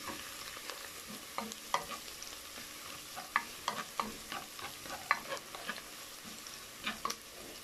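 Pork belly adobo frying in its own rendered fat while being stirred: a steady close sizzle broken by irregular spoon scrapes and clacks in the pan, no voices.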